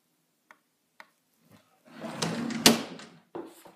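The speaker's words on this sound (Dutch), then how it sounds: "En in mijn schuif, die ga ik even open moeten doen" A desk drawer in a bedroom opens after a few faint ticks: a sliding, rustling rumble builds, ends in a sharp knock, then a brief scrape follows, all quiet and nearby.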